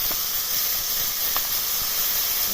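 Fresh red peppers sizzle in a drop of olive oil with garlic, a steady close hiss of steam and frying that runs unbroken without any talk.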